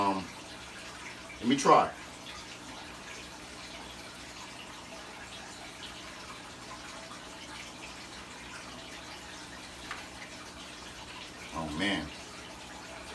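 A large severum cichlid splashes water in a fish tank during a rescue, with two short, sharp splashes, one early and one near the end, and someone speaking briefly between them.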